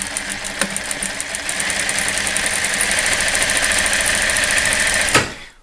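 Sewing machine stitching the bottom of a box-style swag to its lining with dark thread: a steady, loud, fast mechanical whir with rapid needle chatter, running for about five seconds before stopping abruptly.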